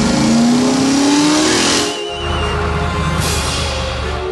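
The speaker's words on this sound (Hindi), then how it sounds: "अपनी जान बचाने के लिए पीली टो ट्रक घने और डरावने जंगल के बीच से अपनी पूरी रफ्तार से भागने को मजबूर है।" A yellow tow truck races flat out through a dense forest, its engine loud and rising in pitch, then a sudden drop and a rougher, lower roar with a hiss of tyres.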